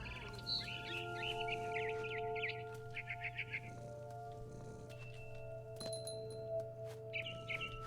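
A barn swallow in What Remains of Edith Finch chirps in quick twittering runs over a steady low hum, with scattered clinks and soft ambient tones; the calls are moderately close and fairly faint.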